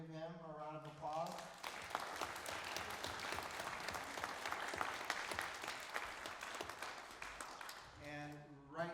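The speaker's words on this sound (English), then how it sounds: "Let's give him a round of applause." A theater audience at a jazz ensemble spring concert applauds steadily for about seven seconds for the concert videographer up in the balcony, with a voice speaking briefly before and after the clapping.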